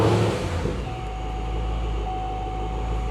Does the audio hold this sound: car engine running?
yes